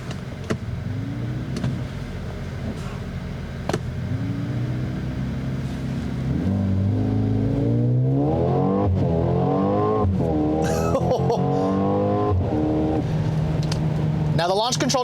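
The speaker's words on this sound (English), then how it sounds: "I'm going to go ahead and give the launch control a try here." A 2021 Mercedes-AMG GLA 35 pulls hard from a launch attempt in sport dynamic mode, the engine note climbing steadily through rising pitches with quick shift breaks, loud and close from inside the cabin under a steady road roar.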